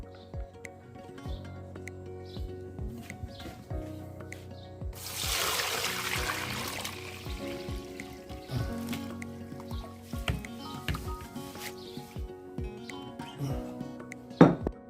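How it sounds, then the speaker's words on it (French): Cold horsetail tea, left to steep overnight, poured through a filter, trickling and splashing steadily with a fuller gush in the middle and light clinks of the container. "ma prêle a reposé toute la nuit. Donc, elle est froide maintenant. Il est temps de la filtrer"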